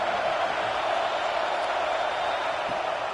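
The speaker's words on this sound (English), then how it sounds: "this crowd really affecting the football game" A football stadium crowd roars in a dense, unbroken wash of cheering and noise during a video game football match, holding steady and loud throughout with no clear single voices.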